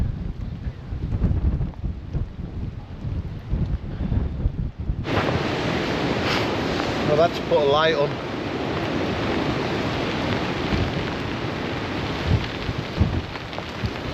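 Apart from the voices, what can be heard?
strong wind and rain while tarp camping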